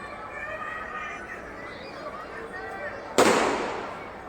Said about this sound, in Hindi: बहुत सारे पटाखे लगाए जाते हैं।